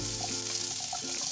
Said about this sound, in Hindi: आपने हाई फ्लेम पे इन वेजिटेबल्स को लाइट सा सौते करने हैं